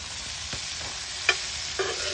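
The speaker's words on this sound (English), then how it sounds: "keep an eye on our alligator that's over here browning with the flour batter and seasoning" Alligator pieces coated in seasoned flour batter brown in a pan, giving a steady soft sizzle with a few brief clinks and scrapes of turning, close and alone.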